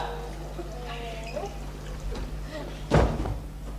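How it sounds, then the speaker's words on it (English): A front door is shut with a single solid thud near the end, heard under quiet conversation between men in an indoor scene. "let me shut the front door, will you?"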